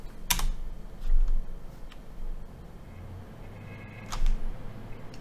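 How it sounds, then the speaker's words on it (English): Username and password typed on a computer keyboard, with a few scattered close key clicks and taps over about five seconds in a quiet room, no speech. "So Chevy fills in his username and his password."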